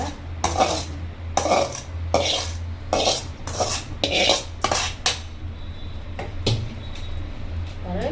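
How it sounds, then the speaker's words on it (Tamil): A sautéed tomato mixture is scraped from a pan into a pot of dried fish curry, with repeated loud metallic scrapes and clanks of a spoon against cookware in a steady rhythm, close up over a low background hum. "இப்போ இதை எடுத்து நம்ம குழம்புல அப்படியே ஊற்றிடலாங்க"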